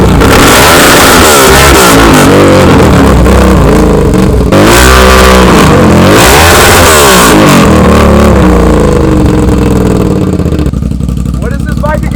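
A 650 naked motorcycle engine revs hard and close, with loud rising and falling surges of throttle that rarely drop back, while voices talk over the noise.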